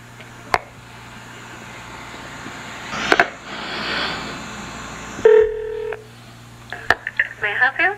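Telephone keypad tones sound in short bursts during a phone call, then a rapid run of dialing beeps near the end, set against faint line hum and a brief clatter of the handset.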